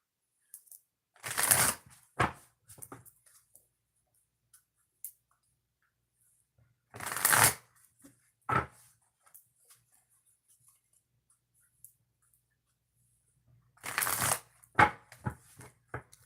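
Oracle cards are shuffled in three quick bursts, each a brisk riffling flutter followed by a few taps, separated by long quiet pauses.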